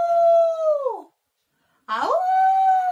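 A voice imitates a wolf howl twice, calling "¡Aú!": a long sustained howl that slides down and fades, a short silence, then a second rising howl held steady.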